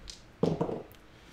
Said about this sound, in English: Second dice roll.